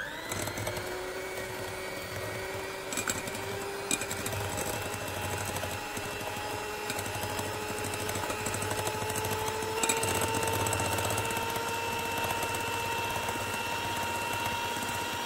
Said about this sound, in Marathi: अंड्यांमध्ये पिठी साखर घातल्यानंतर मी पुन्हा एकदा हे मिश्रण फेटून घेणार आहे।